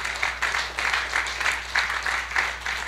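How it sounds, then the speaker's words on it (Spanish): A church congregation clapping for the Lord during a sermon, with rhythmic, fairly loud group applause in steady pulses that fills the room. "Dele palmas al Señor"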